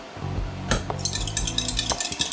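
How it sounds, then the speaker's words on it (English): Two eggs being beaten in a bowl, with a fork or whisk clinking against the sides in quick, uneven taps that grow more rhythmic toward the end, close by in a kitchen. "I beat 2 eggs"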